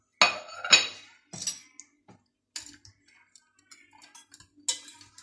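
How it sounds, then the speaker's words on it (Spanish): A metal spoon clinks and scrapes against a pot while dark chocolate is stirred to melt, a few sharp knocks at first, then lighter scattered taps and ticks, close and alone without talk. "Ponemos el chocolate negro y lo removemos hasta que se derrite."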